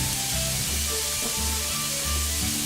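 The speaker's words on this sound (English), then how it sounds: "We're grilling onions." Onions sizzle steadily on a hot grill for hot dog toppings, a dense continuous frying hiss up close with low rhythmic stirring or scraping pulses underneath, no talking.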